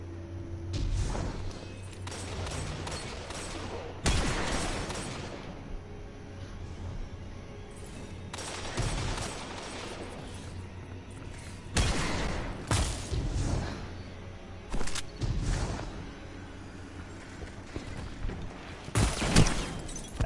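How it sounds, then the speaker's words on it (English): Shotgun blasts in a multiplayer shooter game, a series of heavy booming reports spaced a few seconds apart over constant game background noise, with no talk. "Another shotgun."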